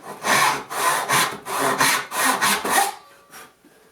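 A hand saw rasps through wood while cutting an inlaid dovetail, with a series of about eight quick, close strokes in steady rhythm before stopping near the end.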